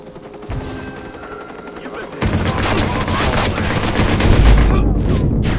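Sustained gunfire in the Watch Dogs game, rapid automatic bursts that swell into a dense, loud barrage after a quieter opening, with heavy booms near the end.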